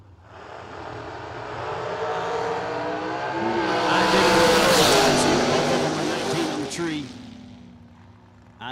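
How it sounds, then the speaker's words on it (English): Drag racing cars launch down the track at a memorial race, with a loud engine roar that swells and then fades away as the cars pull off, under an announcer's commentary. "I saw Timmy in and out of the throttle down there."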